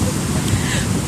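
Ocean surf washing up on Aivoji Beach in Badagry, a dense, close wash of water noise roughened by wind buffeting the microphone.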